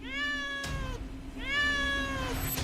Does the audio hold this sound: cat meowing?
yes